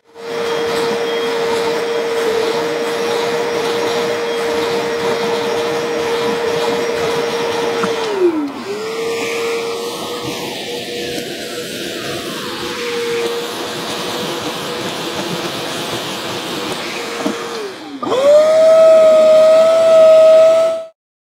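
A portable carpet spot cleaner runs on a stained carpet with a steady high motor whine and suction hiss. The pitch sags and drops midway, holds lower, then surges back up loud near the end.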